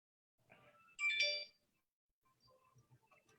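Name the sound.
phone ringtone ringing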